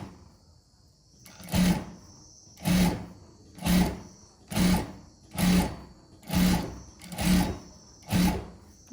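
Sewing machine stitching a saree blouse, running in eight evenly spaced short bursts about once a second, each a loud whirring clatter rising and stopping, with quiet hum between.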